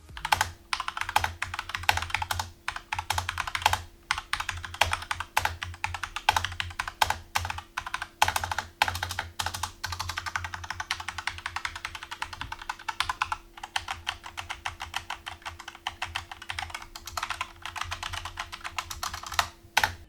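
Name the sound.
typing on SteelSeries Apex M750 mechanical keyboard, QX2 switches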